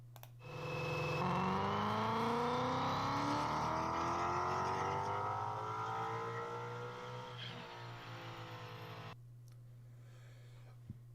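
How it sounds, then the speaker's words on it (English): Ford Mustang with a modified single-exit exhaust revving loudly, engine pitch climbing and sweeping through a long sustained rev before cutting off abruptly, leaving a quiet low idle. "But like I said, the single exit exhausts, they sound good."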